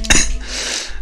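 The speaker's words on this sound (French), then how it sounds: "Ah, tu m'en fais tousser, tiens." A single sharp cough from a man, short and close, followed by a brief breathy trailing sound.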